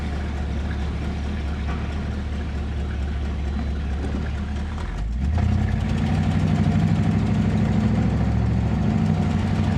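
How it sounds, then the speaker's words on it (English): A 1967 Buick Riviera engine pulls through moderate around-town acceleration, a steady low rumble that deepens and grows louder partway through as the revs rise, with no voices. "This, of course, is just very moderate acceleration, you know, just kind of around town driving"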